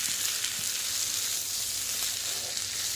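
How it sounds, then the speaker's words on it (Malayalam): Chilli chicken masala sizzles and crackles steadily in a hot pan while being stirred, a dense bright hiss that stays close and even throughout with no voices. "നല്ല ഇളക്കി കൊടുക്കാം."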